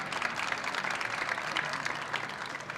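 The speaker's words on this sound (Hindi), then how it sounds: "शायरी का आप खुल के तालियां बजा सकते हैं" An audience at an Urdu poetry conference in Karachi claps steadily, a dense, even wash of applause from many hands at moderate distance, continuing without pause.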